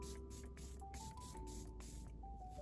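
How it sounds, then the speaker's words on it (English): Charlotte Tilbury makeup setting spray mists onto a face in a quick run of about eight short, quiet spritzes at an even rhythm, with a faint steady hum underneath. "I'm gonna go in with the Charlotte Tilbury setting spray."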